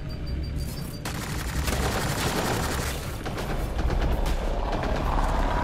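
Sustained, dense gunfire from a firefight in Mass Effect: Andromeda rattles on in overlapping volleys, close and loud, with heavier bursts throughout and no voices.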